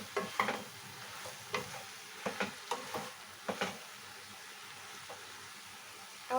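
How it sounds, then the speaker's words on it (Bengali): Prawns and pui shak greens being stirred in a pan, with a spoon scraping in irregular strokes over a soft, steady sizzle, close and fairly quiet. "আবার 2 মিনিট পর ঢাকনাটা সরিয়ে আমি আবার নেড়ে দিলাম সবজিটাকে ভালো করে।"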